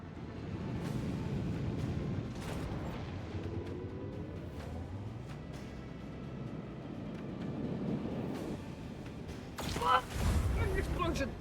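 Explosions rumble in the Warhammer 40k Rogue Trader video game, with low booming bursts through the clip and a sharper, louder blast near the end.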